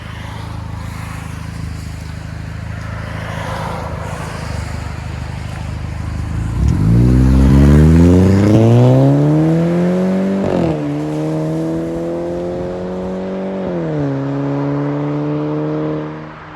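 Straight-piped exhaust on a 2011 Audi A5 Quattro: a low idle burble, then a loud close rev that climbs and holds, a brief dip and a second sustained rev before easing off.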